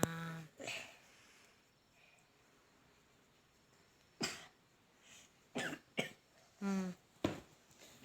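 Several separate, close, fairly quiet coughs and throat-clearing bursts come at irregular intervals, divided by stretches of near silence, with a few clustered toward the end.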